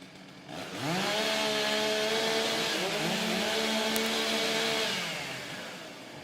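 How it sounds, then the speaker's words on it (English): STIHL chainsaws rev and idle while warming up at an outdoor timbersports competition, a loud sustained engine drone with rising pitch, several saws overlapping close by. "Okay, gentlemen, warm up your saws."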